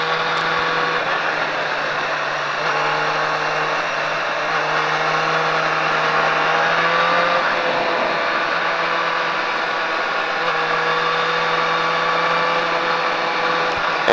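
A car on a track drones steadily from inside the cabin, engine tone holding and shifting slightly as it accelerates and brakes, a sustained hum with no speech.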